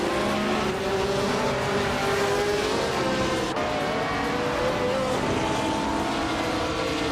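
Vintage race cars roar off the start line at Spa, several engines blaring together at close range, a dense sustained wall of revving and accelerating with shifting engine pitches throughout.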